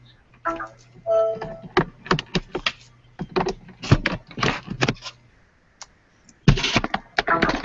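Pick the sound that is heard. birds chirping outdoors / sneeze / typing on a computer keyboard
typing on a computer keyboard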